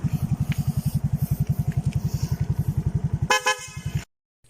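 A car horn with a dual-contact setup and electronic mini relay honks in a rapid stuttering series of short bursts, loud and close, ending in a longer blare before cutting to silence.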